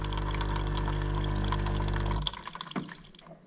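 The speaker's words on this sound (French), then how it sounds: "je vais vous montrer un petit peu la quantité d'eau qu'elle fait à chaque rinçage" A Qilive Q.5404 coffee maker runs its rinse cycle, with water streaming into the drip tray over a steady pump hum for about two seconds, then stopping abruptly and leaving a few scattered drips.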